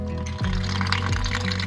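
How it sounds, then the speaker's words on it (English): Cold water poured into a bucket outdoors, a steady close rushing fill sound that holds for under two seconds. "Dad's just putting a bit of water, cold water, in the bucket"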